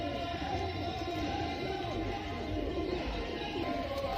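Pigeons coo in a breeding loft in R.S. Pura, Jammu, soft overlapping calls repeating under a continuous murmur of background noise, faint and distant.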